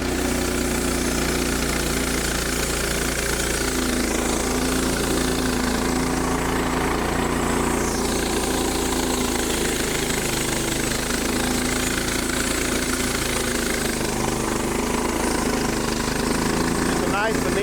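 A Frontier Sawmills OS18 portable sawmill cuts through a small log, its engine running loud and steady with a continuous mechanical drone throughout.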